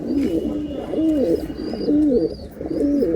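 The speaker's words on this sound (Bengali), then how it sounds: "পুরো দুইটা টকটকা কবুতর খুবই সুন্দর ভাই" A pair of pigeons at a market stall coo loudly and close by, with repeated throaty, rolling calls coming in short bursts over a low background murmur.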